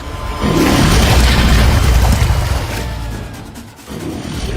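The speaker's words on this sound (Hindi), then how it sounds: "गन चलाओ फास्ट" A loud, booming gunshot-like blast from a drama scene is heard up close, with a rumbling tail that fades over several seconds, no talk over it.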